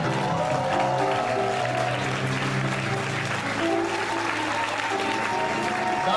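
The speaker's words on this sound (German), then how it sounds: "Der Applaus ist" Audience applause at a stage show fills the whole stretch, dense and even clapping from a large crowd, with sustained music tones sounding underneath.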